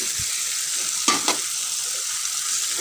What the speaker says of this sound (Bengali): এবার আমি মাংস দিয়ে দিচ্ছি এর মধ্যে, আর রসুনের কোয়াটাও দিয়ে দিচ্ছি।